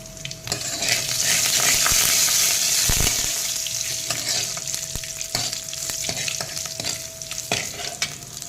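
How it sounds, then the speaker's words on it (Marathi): Hot tempering with asafoetida for Gujarati kadhi sizzles loudly in a pan while a spoon stirs it, the hiss steady under clinks and scrapes of metal utensils, with no voices. "याची फोडणीच महत्त्वाची आहे कढीची हिंग घालूया आणि हे छान मिक्स करून घेऊयात"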